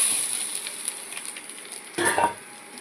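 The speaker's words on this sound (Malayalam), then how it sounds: "ഈ എണ്ണ തിളയ്ക്കുന്നതിനകത്തോട്ട് ഈ തേങ്ങാപ്പൊടി അങ്ങോട്ട് ഇടും." Grated coconut frying in boiling oil, a crackling sizzle with faint stirring scrapes that swells into a brief louder burst near the end, close-up with no talking.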